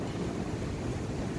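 Strong wind gusting steadily outdoors on a dairy farm, a continuous loud broadband rush with no breaks and no voices.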